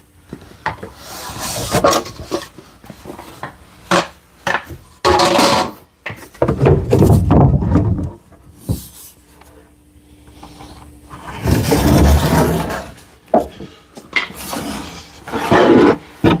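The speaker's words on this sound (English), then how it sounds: "if I slide it forward, I got a piece of 3/4 plywood right here" A piece of 3/4 plywood slides and rubs across a workshop bench or floor in several scraping passes, rough woody friction rising and falling with short pauses between strokes.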